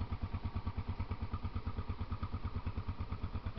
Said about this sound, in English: Clicking sound.